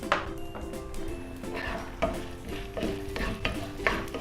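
Mustard seeds, urad dal, chana dal and cumin fry in hot oil, a soft sizzle broken by repeated stirring scrapes and light taps of a spoon against the pan.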